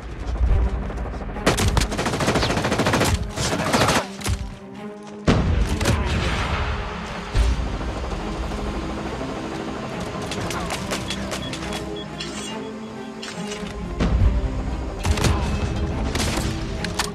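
Gunfire from a weapon in a shooter video game rings out in loud, rapid bursts and single shots, with heavy thuds and booms between volleys over constant game ambience.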